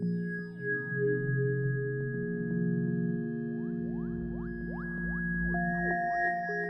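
Bouncy generative ambient synth notes played in Ableton with echo and heavy reverb: sustained bright tones ring and overlap, with repeating plucked notes trailing into long washy tails at a steady, fairly loud level.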